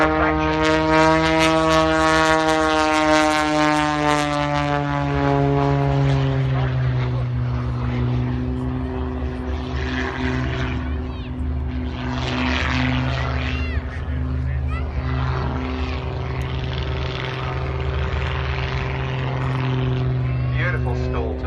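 A propeller aircraft flies aerobatic manoeuvres at the Tyabb airshow in 2017, its engine drone loud and rising then sliding in pitch as it climbs and turns, with a commentator talking over it.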